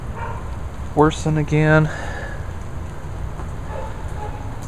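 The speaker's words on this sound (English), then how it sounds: "This is definitely some much needed rain that we've been needing." Heavy rain falls steadily during a long drought, a continuous broad hiss that runs the whole time, with a brief spoken phrase near the start and a faint voice later.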